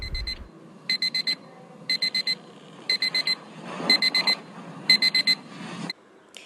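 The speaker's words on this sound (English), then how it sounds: "first thing in the morning, my alarm rings" An alarm clock rings in repeated quick bursts of four electronic beeps, separated by short pauses and fairly close, over a quiet room.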